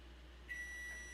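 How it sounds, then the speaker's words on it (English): A microwave heating pecans ends with a single long steady beep from its timer, sounding over a low appliance hum, close and clear. "I really like to let the timer run its course, and then we'll take them out."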